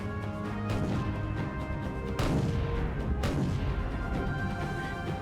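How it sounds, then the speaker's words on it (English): Secondary guns on a warship pound an enemy cruiser in Roblox Naval 1945, a steady rumbling barrage with two sharper, louder booms standing out partway through. "I just like how our secondaries are pelting that cruiser"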